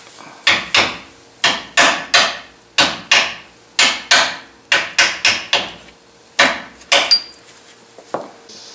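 Sharp hammer blows on the steel knuckle of a 2WD Dodge Dakota, knocking a riveted ball joint loose: about fifteen loud, ringing metallic strikes in uneven bursts of two and three, close and alone.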